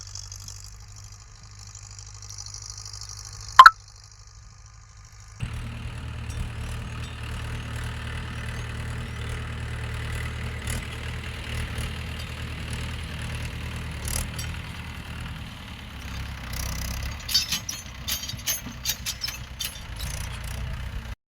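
A tractor engine starts after a sharp click and runs at a steady, low, rumbling idle, moderately close, with some uneven knocking toward the end.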